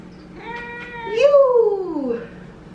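A cat meows loudly up close, a long drawn-out rising and falling cry over faint room noise.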